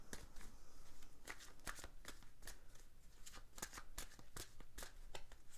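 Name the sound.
shuffling tarot cards for a reading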